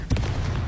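A Confringo fire spell from Hogwarts Legacy lands as a single short, loud blast with a sharp punchy onset and a brief rumbling tail.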